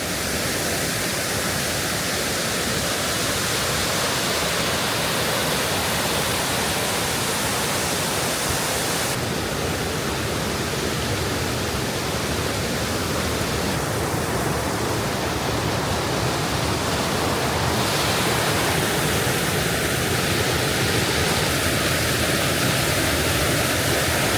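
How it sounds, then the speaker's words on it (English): Steady, loud rushing roar of an unseen waterfall or strong creek in a green Newfoundland forest, unbroken for the whole stretch with no talking. "Down here must be another waterfall of some sort, or at least a stronger creek."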